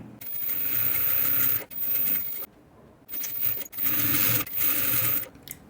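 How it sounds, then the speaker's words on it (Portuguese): A sewing machine stitches across a fabric school pencil case in several loud, close bursts of fast whirring, separated by brief stops and a longer pause. "E vamos passar uma costura aqui também prendendo."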